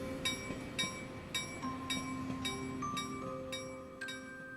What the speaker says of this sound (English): The trains that don't come this late at night